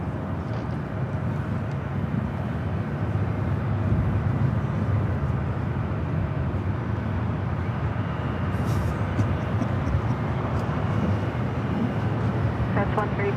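A Delta Boeing 757 takes off from runway 24 left at LAX, a steady broadband jet roar filling the whole stretch at moderate distance, with faint voices and ambient airport noise underneath.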